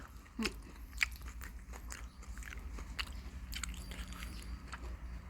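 Someone bites into and crunches a crispy snack up close, a series of sharp crisp bites followed by quieter chewing and crackling, faint and without talking.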